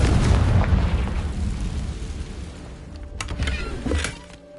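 A booming blast from the Confringo spell in Hogwarts Legacy on PS5, a loud low rumbling explosion that slowly decays, followed by a few sharp crackling pops near the end, with no talk.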